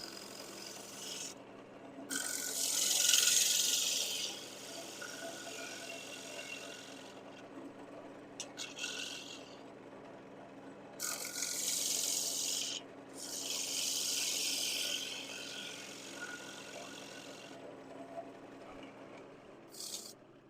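A woodturning tool works across a spinning piece on a lathe to clean up tool marks, making repeated scraping, rasping passes in bursts of a few seconds with short pauses between them, close and clear.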